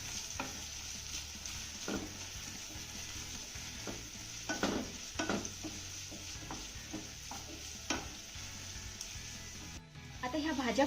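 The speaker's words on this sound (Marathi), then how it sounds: "आता यामध्ये घातलेल्या सगळ्या भाज्या आपण थोड्याशा मऊसूद होईपर्यंत परतून घेऊया." Chopped carrot and cabbage stir-fry over a high flame, with a steady sizzle and repeated scraping, clattering strokes of the spatula against the pan, fairly close, ending in a brief louder rustle.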